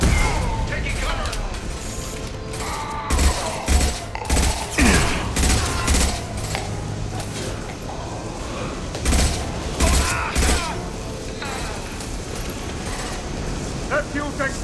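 A firefight in Mass Effect 2 with repeated bursts of gunfire and sharp shots cracking in irregular clusters, loud and close, mixed with mechanical clatter while voices call out between volleys.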